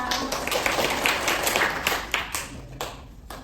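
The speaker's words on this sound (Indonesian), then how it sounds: "Tepuk tangan untuk kita semua." Clapping in a primary school classroom during a microteaching lesson, a burst of children's hands clapping that thins into a few scattered, sharp claps near the end.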